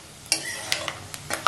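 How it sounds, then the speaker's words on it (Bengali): Peanuts frying in a pan give a faint, close sizzle broken by a few quick stirring scrapes. "দেখো বাদামটা ভাজা, বেশি ভাজলে আবার বাদাম তেতো লাগে"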